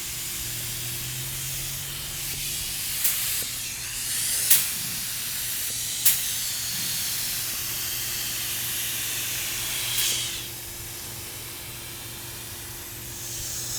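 Spray paint hisses steadily while a monster truck kart is painted, a close continuous spray broken by a few sharp clicks and short bursts, with no talking.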